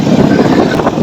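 Wind blowing near a bridge in Lahore, a loud, steady rush pressing on the microphone for the whole short moment.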